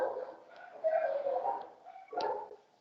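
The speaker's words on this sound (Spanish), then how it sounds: "Perdón por el ruido, ¿eh? De los perritos ahora." Small dogs bark and whimper in bursts at moderate distance, with short yips rising between lower whines over a couple of seconds, heard on their own without speech.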